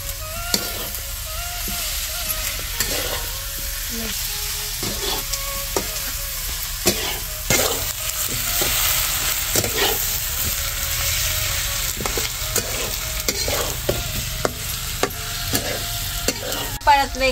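Onion, garlic, tomato and potato with red chili, coriander powder and garam masala stir-fried for a hadga-leaf bhaji, giving a steady close sizzle broken by frequent scraping and clacking stirs, with no talk.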